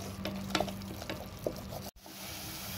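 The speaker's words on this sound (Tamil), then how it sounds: "நம்ம அரைச்சி போட்ட மசாலாலாம் நல்லா ஆயிலில் இது மாதிரி நல்லா வதக்கிக்கணும்" Ground masala paste being sautéed and stirred in oil in a pan for a vegetable dum biryani, a soft steady sizzle with light scraping stirs, quiet and close.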